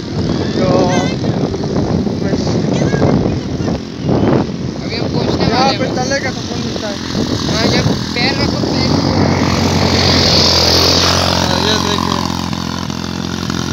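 Heavy motorbike engines at a busy Karachi seaview, a loud continuous roar mixed with crowd noise and wind, with people talking nearby.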